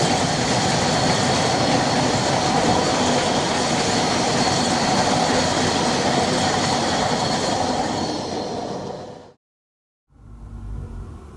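A train rumbles past close by, a loud steady roar with rattling wheels that fades, cuts out briefly, then returns more faintly.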